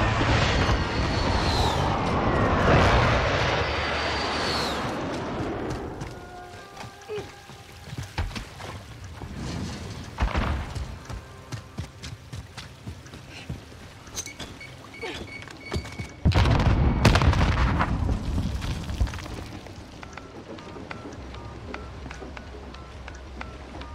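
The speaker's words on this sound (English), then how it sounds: "Enemy precision airstrike inbound" Heavy explosions from a precision airstrike in a search-and-destroy video game, with big booming bursts at the start, mid-clip and later, surrounded by rumbling aftershock and debris.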